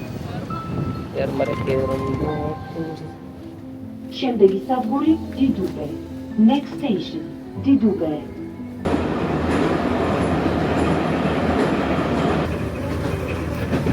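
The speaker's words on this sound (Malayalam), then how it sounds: "മെട്രോ വന്നു കയറുകയാണ്. എങ്ങനെയുണ്ട് ജോർജിയൻ മെട്രോ?" A metro train arrives and runs in Tbilisi, Georgia, with a rising rumble that settles into a steady, loud rolling roar and rattle, while people talk over it.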